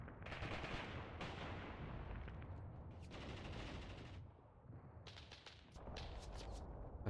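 Gunfire and mortar fire rattle through a Mius Front battle, with dense overlapping bursts and booms that keep up almost without pause and ease off only briefly.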